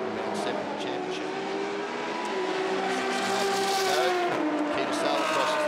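GT race cars at a GT Asia Series round roar loudly across the finish line one after another, a sustained engine drone with shifting pitch as they pass, commentary running over the top.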